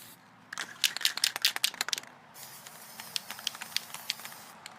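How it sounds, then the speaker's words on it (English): A can of frosting spray coating hisses in several short bursts and then a few lighter puffs, close by and fairly quiet, with no talking. "So as you spray it, it kind of becomes clear, but it is doing something."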